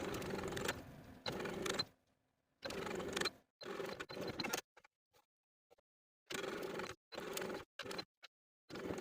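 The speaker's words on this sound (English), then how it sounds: "continuing to sew that seam allowance to the lining all around the neckline" Sewing machine stitching a seam allowance to the lining around a tank top's neckline, running in several short bursts separated by pauses, close and steady with no talking.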